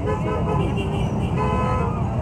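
Vehicles pass along East Bank Road in a steady, dense wash of nearby traffic noise, with a horn tooting amid the rumble and a voice faintly present underneath.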